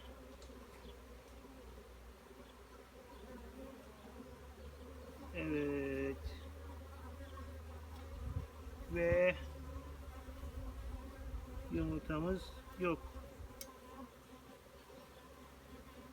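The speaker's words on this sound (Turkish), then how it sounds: "İçeride de kovanın iç kısmında da duvarlarında da arı yoğunluğu yüksek" Honeybees hum steadily around an opened hive as a soft continuous drone, with a few brief spoken remarks cutting in over the buzz.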